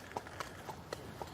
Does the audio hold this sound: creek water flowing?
no